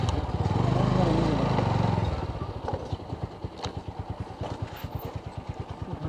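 A motorcycle, an Apache bike parked in the shade during a ride to Sajek, sits idling: a louder rumble at first settles into a steady, evenly pulsing putter, close by.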